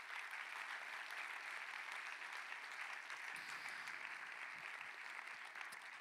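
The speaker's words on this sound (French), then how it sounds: "Je crois qu'on peut faire un tonnerre d'applaudissements à l'entreprise Ciné Vital." Opening-ceremony audience in a hall applauding the cinema company Ciné Vital: a dense, even wash of clapping, moderately distant and steady, with a brief low murmur partway through.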